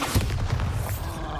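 A Bombarda spell detonates in Hogwarts Legacy, a deep, rumbling magical blast with a couple of heavy low thumps rolling over a dense, sustained roar.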